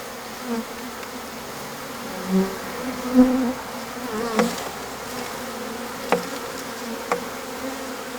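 A honeybee swarm takes to the air: a soft, wavering drone of many wings hums steadily at a middle distance, with a few louder swells as bees pass nearer.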